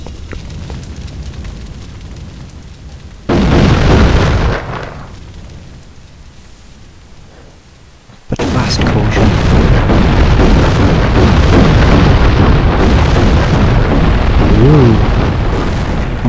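Loud booming explosions in the horror video game The Thing, one short heavy blast followed after a pause by a long sustained rumbling barrage that fills the rest of the stretch, with no voices.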